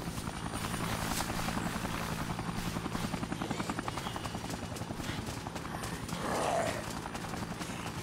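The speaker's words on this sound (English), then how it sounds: "There's the helicopter." A helicopter in the video game Dead Rising beats steadily with a rapid, rhythmic rotor chop, fairly loud and continuous, with other game sounds mixed in.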